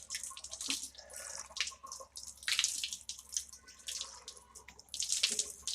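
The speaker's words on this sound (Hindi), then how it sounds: "उसके बाद 3 बार नाक में पानी डाल चढ़ाए।" Water runs from a tap and splashes as it is cupped and rinsed in the nose during wudu ablution, with close, uneven bursts of splashing and trickling and no talk.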